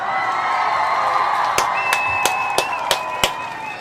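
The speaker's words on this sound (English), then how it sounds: "I want to give a round of applause to all the Kaumba babies" A crowd cheers with a continuous murmur and scattered whoops, while six sharp, evenly spaced claps ring out loud and close over it in the second half.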